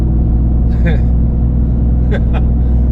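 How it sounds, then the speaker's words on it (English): A RAM TRX pickup truck's engine drones steadily as it climbs uphill, a loud, constant low rumble throughout, with a few brief higher squeaks and knocks over it. "now we're going uphill, which is just gonna make the truck push more"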